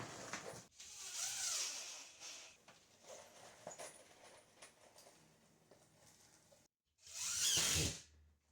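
A cordless drill set to screwdriver mode drives drywall screws, with two loud whirring bursts near the start and again toward the end, separated by quieter handling noise.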